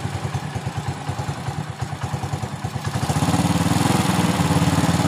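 A Supra Fit motorcycle engine idles close by during a carburetor air screw adjustment. It starts with a rhythmic, lumpy putter, then steadies and rises slightly into a faster, smoother idle.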